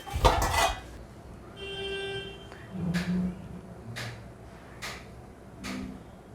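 A pan is taken out and set on a stove to heat oil in a home kitchen, a sharp metallic clank followed by several lighter knocks and clinks spaced about a second apart, fairly close.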